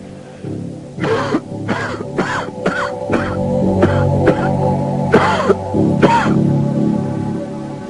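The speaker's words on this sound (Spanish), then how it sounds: "desencadenando la tos del fumador" A rough, hacking smoker's cough repeats in a run of raspy bursts over a low background hum, close and fairly loud.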